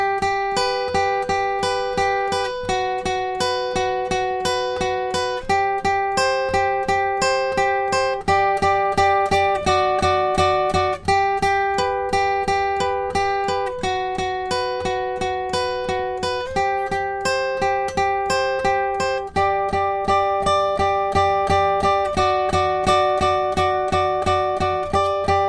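Electric guitar solo from a song, played alone as a steady stream of clear, evenly picked melodic notes over a sustained low tone, moderately loud and close.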